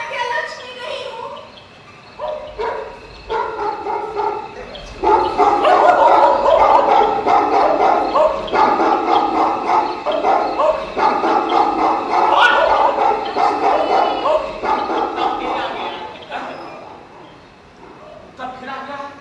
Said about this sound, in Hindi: कुत्ते का भौंकना आपको बहुत नापसंद है क्या?